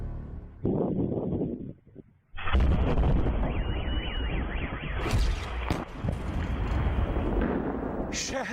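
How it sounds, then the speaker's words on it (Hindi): An explosion in a city in Russia at night, heard as a sudden heavy boom followed by a loud, sustained rumbling roar with further cracks, mixed with an electronic tone and other layered sound. "शहर के बीचों बीच घुप अंधेरे में धमाका"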